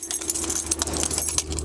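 A bunch of keys jangles steadily and close for a moment, a light metallic rattling with no talk, in a garage setting beside a 1978 square-body truck.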